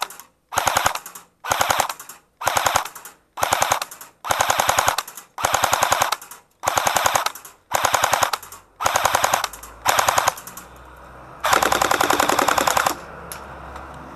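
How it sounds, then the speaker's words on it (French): STG44 (MP44) airsoft rifle firing in repeated rapid bursts, a sharp mechanical rattle, with pellets striking an iron plate slightly behind each shot; about ten short bursts separated by brief pauses, then one longer burst, loud and close. "On entend le bruit des projectiles sur la plaque de fer,"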